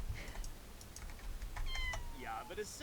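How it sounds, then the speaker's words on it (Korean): A cat meows in The Sims 4 life-simulation game, a few short mewing calls near the end over faint keyboard clicks and quiet background sound. "야옹"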